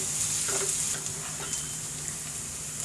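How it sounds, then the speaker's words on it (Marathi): Chopped onion frying in a pan with a spoonful of ghee, a continuous bright hiss and crackle up close, steady in level, with occasional soft stirring scrapes and no voices. "हा कांदा भाजत असतानाच आपण ह्याच्यामध्ये एक चमचा तूप घालणार आहोत"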